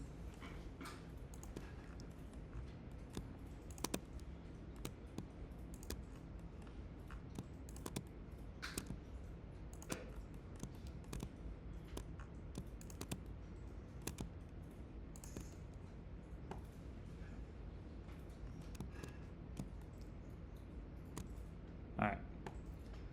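Mouse clicks repeat steadily while someone selects the bottom faces of parts in CNC CAM software, sharp and close over a low background hum, with occasional louder clicks.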